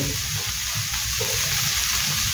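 Water poured into a pan of semolina for upma, a steady broadband rush running the full stretch with no talk over it.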